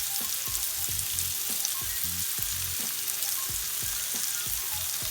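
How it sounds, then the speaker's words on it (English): Lamb chops seasoned with garlic and herbs frying in a pan, a soft steady sizzle with faint crackle, quiet and continuous with no talking. "And let it cook for around about 3 to 4 minutes on each side."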